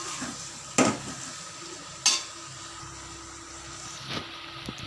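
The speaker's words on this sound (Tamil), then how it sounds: "நல்லா கிளறி விட்டுருங்க." Chicken kurma is stirred in a pan over a soft background sizzle, with three or four distinct metallic clinks and scrapes of the spoon spaced about a second or two apart.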